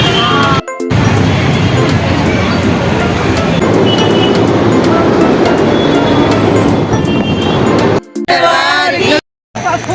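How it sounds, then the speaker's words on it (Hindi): An elevated metro train rumbles along the track overhead, heard from a queue near the Jhandewali temple on a Dussehra outing. The roar is loud and continuous, breaks off briefly near the end, and a crowd murmurs underneath. "ये मेट्रो ऊपर से दिखती है।"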